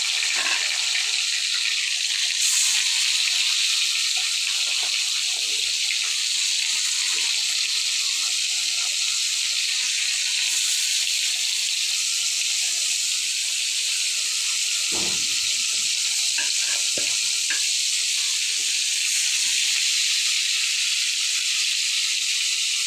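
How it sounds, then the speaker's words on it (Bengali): A fish rubbed with salt and turmeric fries in a hot pan, giving a steady, loud, bright hiss and sizzle that runs the whole time with a few faint knocks under it. "দেখো লবণ হলুদ মেখে রেখেছিলাম, মাছটা বসা দিচ্ছি।"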